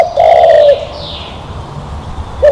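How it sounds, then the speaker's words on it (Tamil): A pigeon, the kind kept in a cage, gives a short, clear coo near the start, then a brief second coo right at the end, with quiet background between. "புறா, புறா கொஞ்சி"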